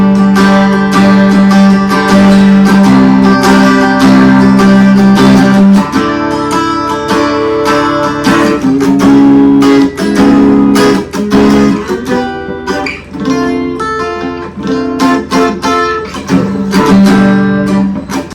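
A Gretsch G2420T replica hollow-body guitar is strummed unplugged through chord changes, recorded on a phone camera, bright and close, with a steady rhythmic strumming pattern throughout.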